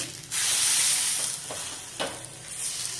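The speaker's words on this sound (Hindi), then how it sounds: "ये देखिए किनारों को ऐसे दबा दबा करके किनारे पका लीजिए और धीमी धीमी आंच में सिम टू मीडियम फ्लेम में इसको पकाइए।" A radish wrap frying in a pan over a low to medium flame gives a steady close sizzle, with a few brief scraping or pressing sounds on top.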